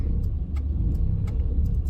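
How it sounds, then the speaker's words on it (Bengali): Steady low rumble of idling and slow-moving cars packed together in traffic, continuous and fairly close, with no talking. "লেগেছে গাড়ির জাম।"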